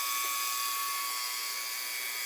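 A Branson ultrasonic cleaner running with heated fluid, cleaning carburetor parts from a 1960 Harley Ironhead. It gives a steady, loud high whine with a constant hiss and no change in rhythm over the whole moment. Nobody speaks.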